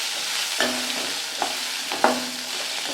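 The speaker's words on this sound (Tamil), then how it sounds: "இப்போ தலை கொத்தமல்லி தலை போட்டு அப்படியே வதக்கி விட்டுலாம்" Steady frying sizzle of coriander leaves sautéing in a pan, with a few soft clinks of a stirring spoon, no voices.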